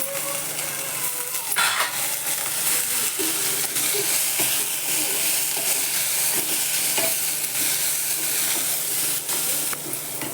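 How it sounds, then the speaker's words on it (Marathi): Broken wheat roasts in ghee with steady sizzling and frying, occasional scraping and stirring, continuous and close, with no voices. "तुपामध्ये चांगली ही परतून घ्यायची"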